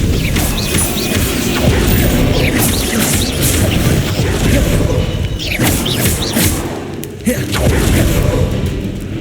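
Incendio fire spells cast in Hogwarts Legacy during combat: loud, dense bursts of crashing, booming magic, layered and continuous, with sharp whooshing impacts recurring throughout.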